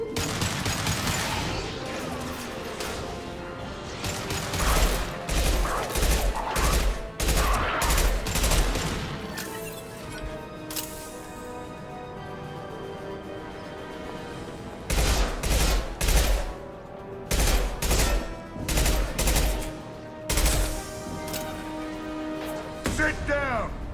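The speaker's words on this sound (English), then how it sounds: "Firing an impact shot." Impact shot gunfire in the video game Mass Effect, dense bursts of rapid loud shots in two long volleys with a quieter stretch between, mixed with game sound and voices talking.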